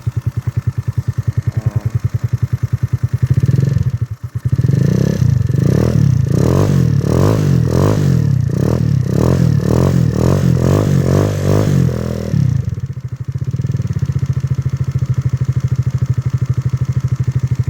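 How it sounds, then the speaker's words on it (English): A small 139QMB scooter engine with a stroker build idles low and steady, with a burst of rhythmic clattering and revving in the middle before settling back to idle. "She's idling super low, but nothing wrong with a low idle, right?"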